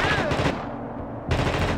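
Gunfire in a video game as a shot strikes a barrel: two loud bursts of crackling shots, with a quieter gap between them.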